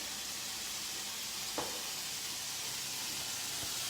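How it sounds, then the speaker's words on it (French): Bacon frying in a pan gives off a steady, quiet sizzle and hiss throughout, with one brief brighter crackle partway through and no voices. "Les sons chanter le bacon, les sons chanter le bacon."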